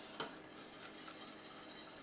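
A butter and flour roux cooks in a pan as the base of a béchamel for ham and cheese crêpes. A spoon gives a soft, steady scraping stir with faint sizzling underneath, quiet and close, with one brief clink near the start.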